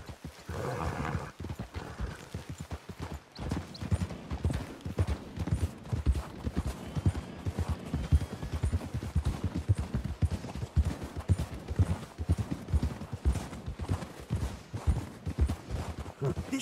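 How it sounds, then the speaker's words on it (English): Horses walk in the video game Red Dead Redemption 2, their hooves clip-clopping in a steady, continuous rhythm, fairly close and moderately loud throughout. "We should leave the horses."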